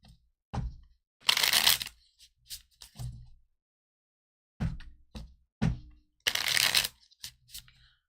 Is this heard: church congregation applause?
no